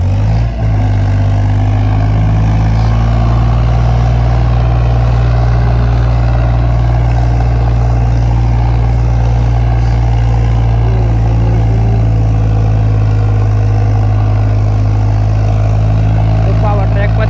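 A Powertrac Euro 55 tractor engine drones loud and steady throughout a tractor performance contest, working in second gear with a low, constant rumble and other tractors gathered nearby.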